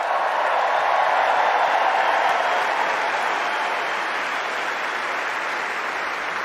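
A large crowd on Wimbledon's Centre Court after a tennis match delivers sustained, dense applause, a loud even roar of clapping that eases only slightly over several seconds, with no voices standing out.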